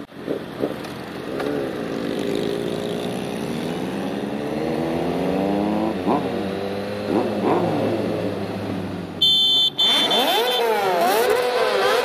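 A Kawasaki Ninja ZX-6R motorcycle rides through city traffic, its engine droning and rising and falling with repeated throttle changes, louder revving and wind buffeting near the end.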